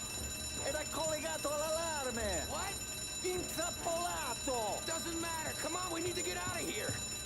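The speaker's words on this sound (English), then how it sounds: "They got an alarm?" An alarm rings during a video game heist, a repeating electronic bell-like tone pattern heard under ongoing game sounds and nearby talk.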